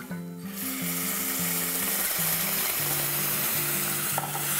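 Golden fried onions with red chili powder and curd being stirred in a pot over high flame. A loud, continuous sizzle with scraping, rubbing stirs, and a low droning tone underneath.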